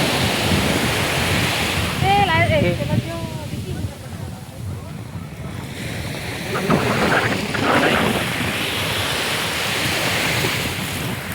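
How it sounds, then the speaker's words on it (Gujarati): Ocean surf washing onto the sea shore at Somnath, a steady broad roar with wind buffeting the microphone, while voices talk over it throughout. "આ દરિયાનું લોકેશન તમે જોઈ લો"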